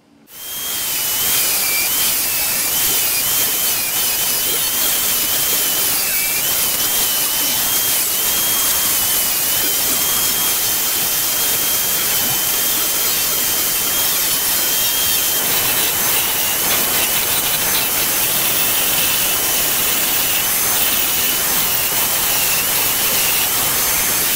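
A power tool grinds and reshapes the head of a rusty hatchet axe in a workshop. The harsh, continuous abrasive whine stays loud and steady throughout, with no talk.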